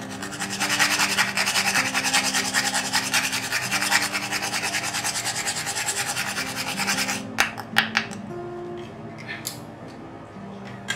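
Whole nutmeg grated over a dish of asparagus à la flamande, a fast rhythmic rasping scrape close by that runs for several seconds, then stops, leaving a few light clicks and taps.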